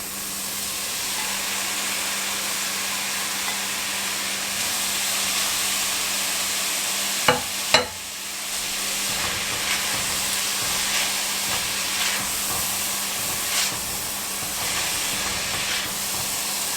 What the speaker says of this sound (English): now we're just going to add the meat back in